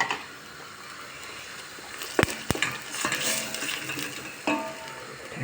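Steady sizzling of onions frying in a pot, with a few sharp metallic clanks of a spoon against the pan partway through.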